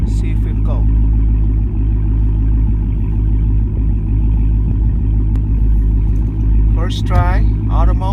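A Dodge Hellcat SRT engine rumbles at low revs of about 1500 to 2000 RPM on snow, a steady loud drone held throughout, with a person talking over it near the end.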